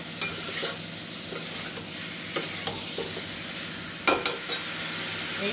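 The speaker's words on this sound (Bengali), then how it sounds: "এখানে এটা একটু মশলার সাথে কষিয়ে নেওয়ার জন্য" Mutton sautéing with spices in a hot pan, a steady sizzle broken by repeated scraping stirs of a spoon against the pan, close and alone.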